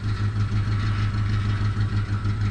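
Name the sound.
truck engine idling with weird-sounding exhaust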